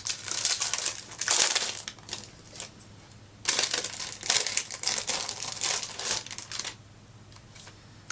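Plastic wrap on a Bellapierre eyeshadow palette crinkles and crackles loudly in close, uneven bursts, with short quieter pauses between handling.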